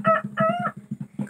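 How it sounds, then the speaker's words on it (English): A rooster crows nearby in short, raspy bursts, with a few clucks mixed in, loud and unaccompanied. "Where's my rooster? Rooster."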